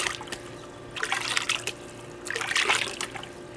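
Water sloshing and swirling in a gold pan during gold panning, soft trickling and splashing in a few gentle surges, close and fairly quiet.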